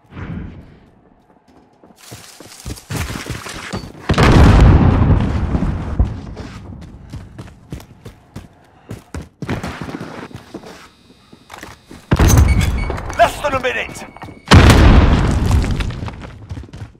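Cruise missile strikes in the Call of Duty Modern Warfare video game land as several heavy booming explosions in separate bursts, with quieter crackling and rumble between them and no talk.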